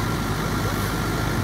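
A fire engine tanker truck idles after pulling up at a rural water supply drill in Catawba County, North Carolina, giving a steady, fairly loud low engine rumble that holds unbroken throughout.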